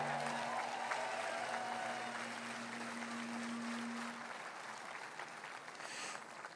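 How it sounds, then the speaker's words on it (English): A large rally crowd at a Trump rally in Butler applauds, a broad, even roar of clapping heard from a distance, with a faint sustained tone early on, gradually thinning slightly toward the end. "Please give yourself a big round of applause"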